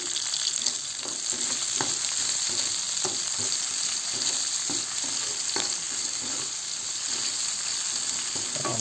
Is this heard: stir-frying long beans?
yes